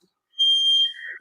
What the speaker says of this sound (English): That's the fire alarm cheering her on.